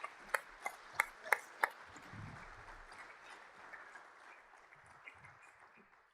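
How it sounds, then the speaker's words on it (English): Applause from an audience at a high-speed rail and city-to-city connections conference, opening with several sharp claps before settling into a steady, moderately loud wash of clapping that gradually fades. "let's give them a warm round of applause"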